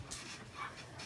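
A pet dog gives a short, soft vocalization, a brief pant or whimper heard faintly and close by, with no talking.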